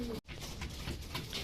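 Racing pigeons cooing at the loft, soft low murmuring coos under a constant close background rumble, brief and faint.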